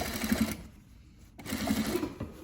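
A sewing machine stitches along a fabric seam in two short, fast bursts of rapid mechanical chatter separated by a brief pause, close and fairly quiet.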